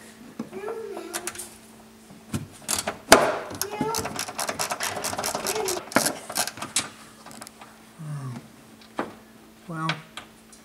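Deep half-inch socket loosens a nut on a Ram 1500 pickup during a bed light install, with quick ratcheting clicks and clanks of metal at close range while someone talks over parts of it.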